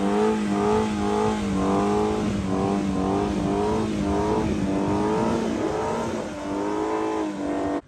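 A 2018 Ford Mustang Shelby GT350 engine revs hard and continuously, the pitch rising and falling in repeated surges as the tires spin in a burnout on a private road, loud and close.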